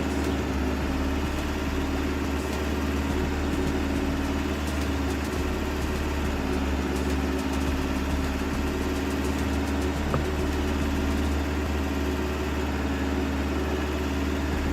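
A tractor engine running with a mulcher attached in Farming Simulator 22, a loud, steady droning hum with a constant low throb and no pauses or speech.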